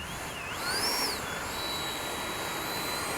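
An FMS Rafale 80mm RC jet with an afterburner runs up: a steady, high-pitched whine that bends upward and back down, over a constant airy rush with no voices.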